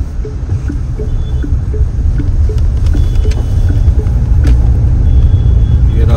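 A truck rumbles along beside a moving car on a highway near a flyover bypassing Bhagalpur, a steady loud low-frequency road and engine drone throughout, with faint voice-like sounds mixed in.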